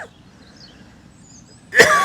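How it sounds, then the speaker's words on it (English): A person gives a single loud, abrupt cough near the end, after a stretch of quiet room tone. "Now I'm coughing."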